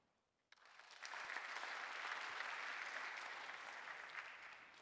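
A conference audience at a design talk bursts into applause after a quiet moment, building within a second to a full, steady roar of many hands clapping that holds and then begins to taper.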